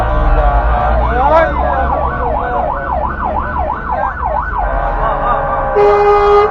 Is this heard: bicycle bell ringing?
no